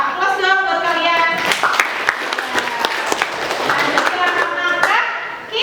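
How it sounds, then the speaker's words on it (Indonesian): A class of students applauding: brisk, loud clapping from many hands lasting several seconds, with children's voices and a teacher talking through it. "Aplaus dong buat kalian."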